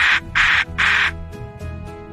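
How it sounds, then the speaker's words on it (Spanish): A peacock gives three loud, harsh, nasal calls in quick succession, each followed by a short pause, then a few fainter trailing calls. "¿Qué sonido hace el pavo real?"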